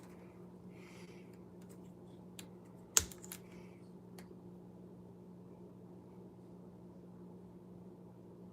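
Keyboard typing, faint and sparse, with a few soft clicks and one sharper tap over a steady low hum, no talk.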